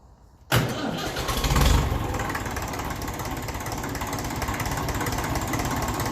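A 1954 Ferguson TEF 20 diesel tractor cranks and fires with a sudden loud catch, surges briefly, then settles into a steady, rough clattering idle that runs on alone.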